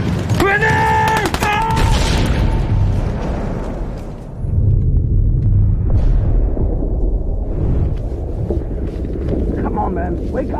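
A grenade blast in a World War I battle scene from a music video, a loud booming rumble with dense noise and wind-like roar, backed by shouting voices and music.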